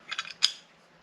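Masking tape is peeled off a Humvee turn signal light lens in a few quick, crackly rips close by, the last tear sharpest, then a short fade into quiet.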